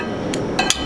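A blacksmith's hammer strikes hot metal while forging a shepherd's hook, giving three quick sharp metallic clinks within a second over a steady background hiss.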